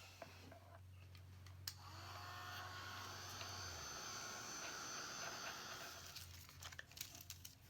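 Heat tool drying a stamped Rolodex card: a steady blowing whir that swells and holds close at a moderate level for several seconds, with light paper crinkles and taps near the end.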